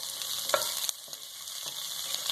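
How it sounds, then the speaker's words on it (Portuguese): Bell pepper and onion sautéing in a pan, a steady bright sizzle throughout with a few scraping stirs of a utensil breaking through, close and fairly quiet, with no voices. "E o pimentão. Vou colocar aqui tudo junto. Vamos dar uma mexidinha."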